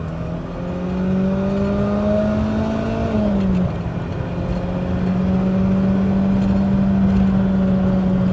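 A BMW E30 M3 from a Japanese import, 32 years old and in mint condition, accelerates on the road, its engine note climbing steadily, dipping briefly at a gear change, then holding a loud, even drone up close with no talking.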